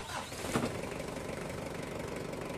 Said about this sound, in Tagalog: Tapos i-start ko ulit itong makina.